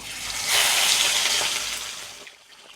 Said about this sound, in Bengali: দিয়ে দিলাম সর্ষের তেল এবার মাছগুলোকে অল্প অল্প করে তেলের মধ্যে ছাড়বো আর ভেজে তুলে নেব